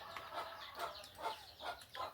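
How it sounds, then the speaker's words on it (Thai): Chicken clucking in short repeated bursts, about five over two seconds, at moderate distance in a home or yard setting where bone soup and instant noodles are being cooked, with no talk over it. "ไก่อยู่นั่น"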